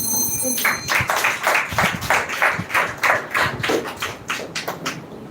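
A live audience at the grand-finale event claps for someone speaker, a steady, fairly close burst of many hands lasting several seconds that thins out toward the end.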